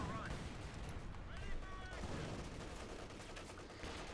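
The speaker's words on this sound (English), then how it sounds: "An absolutely wonderful concerto there by Apdo and the 15th Panzergrenadier Division's" Artillery barrage from the 15th Panzergrenadier Division's guns in Company of Heroes 2, a dense rumble of overlapping distant blasts and crackling gunfire. It holds steady at a moderate level throughout, with faint tonal game effects mixed in.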